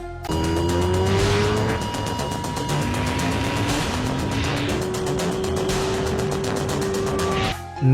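A Kawasaki Ninja H2R with a supercharged 998 cc engine roars loud and close, its pitch climbing through rising revs in a sustained, unbroken howl.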